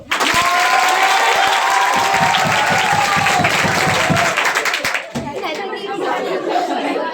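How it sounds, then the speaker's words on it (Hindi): Children at a coaching centre clapping in a dense, loud burst of applause mixed with chatter and some laughter. The clapping thins after about five seconds as voices take over. "अब ताली मारो।"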